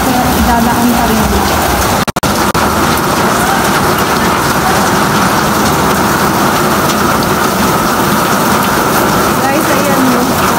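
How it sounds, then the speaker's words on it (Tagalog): Heavy typhoon rain from Typhoon Carina pours steadily over flooded streets in Bulacan, with gusting wind. The dense, hissing downpour stays loud throughout, and a brief sharp knock sounds near the start. "Kaya hindi niyo marinig yung boses ko kasi nga malakas ang ulan, sobra pati yung hangin dito sa Bulacan"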